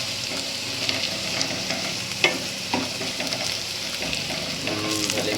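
Chili and garlic frying in a pan, just turning slightly burnt while cooking a spiced aubergine and potato curry: a steady, close, dense sizzle with occasional scraping clinks of stirring.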